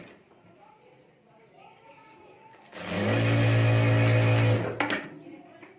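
A sewing machine runs in one steady, loud burst while stitching along a zip on a handmade fabric bag, preceded by quieter handling noises and soft talk.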